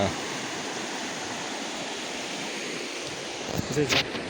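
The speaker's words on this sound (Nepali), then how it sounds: "यो चाहिँ साप्सु खोला" Steady rushing water of a Nepali village river flows throughout, a broad continuous roar, with a brief burst of voices or movement near the end.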